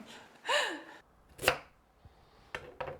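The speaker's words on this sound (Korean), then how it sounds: "칼질도 이렇게 쏙쏙" A few sharp, separate knife chops through carrots thud against a cutting board at an uneven pace, with a brief high vocal sound between them.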